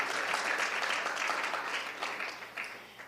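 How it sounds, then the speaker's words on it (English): Audience applause in a large, beautiful event room, a dense wash of many hands clapping steadily throughout, tapering slightly toward the end. "Can we give the Dawson folks a great round of applause?"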